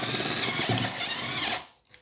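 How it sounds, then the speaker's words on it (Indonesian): A power drill whirs steadily as it bores into wood for about a second and a half, then cuts off into near silence. "Jika sudah mengering, kita bor lagi."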